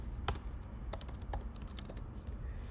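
Computer keyboard keys clatter in quick, irregular bursts of sharp clicks, close and quiet, with no voices.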